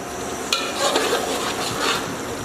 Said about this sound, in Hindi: इस मौके पे आके चम्मच को बराबर हिलाते रहना है ताकि नीचे से लग ना जाए।